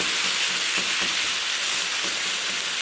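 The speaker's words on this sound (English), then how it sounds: "just going to spread them out a little bit so they make some nice contact with the pan, and then just going to leave them alone until they get nice sear" Beef pieces searing in a hot pan for kway teow, giving a steady, close, loud sizzle and hiss that holds unbroken throughout.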